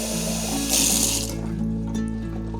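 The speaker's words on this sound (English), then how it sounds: "And then let's add some water." Water is poured from a tap onto sugar and freeze-dried lemon powder, a close, steady rushing stream with a brief brighter splash partway through, and no talking.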